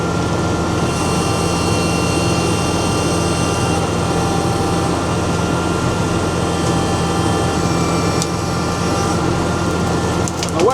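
A wood chipper driven by a tractor's PTO runs steadily with its in-feed conveyor going, a loud continuous mechanical drone with a few brief metallic clicks near the end.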